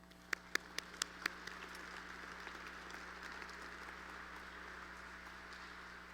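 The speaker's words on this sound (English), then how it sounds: "Join me again in applauding our Builders Award winners." Faint, distant applause for award winners at a SkillsUSA Nebraska leadership conference opening ceremony. It starts with a few sharp individual claps and then settles into a soft, sustained patter of clapping from the audience.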